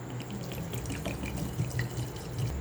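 Water is poured over halved grapes in a pot to boil for a sweet-and-sour grape pickle, a steady trickling, dripping stream heard close and continuous with no voices.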